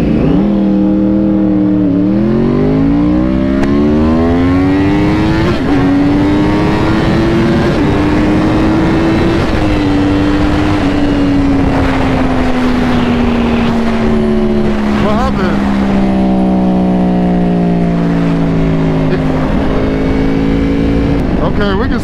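Stock and ECU-flash-tuned Yamaha R1 sport bikes, one with a minus-one front sprocket, accelerate hard from a standstill, engine note climbing steeply through repeated gear changes, loud and close for the whole stretch, with speech underneath.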